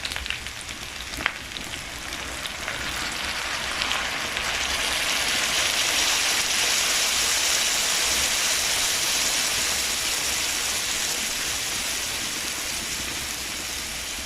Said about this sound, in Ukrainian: Картоплю трохи підсмажили і додаємо водички.